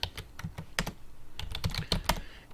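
Rapid keystrokes on a computer keyboard as a terminal command is typed to change into a Django project folder, an irregular run of sharp, close clicks with no talking.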